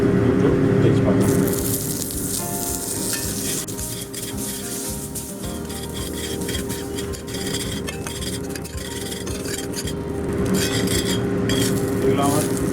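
Two bay leaves and a dried red chilli frying in hot oil for Bengali doi rui, a steady sizzle under clinks of a spatula against the pan and occasional stirring.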